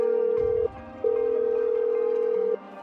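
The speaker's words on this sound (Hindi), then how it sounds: "तो सर के फोन से गौतम को एक बार फोन लगाते हैं" An outgoing call to Gautam Gambhir rings through on a phone, a steady pure ringback tone sounding in two long bursts separated by a short silence, with a soft low thump near the start.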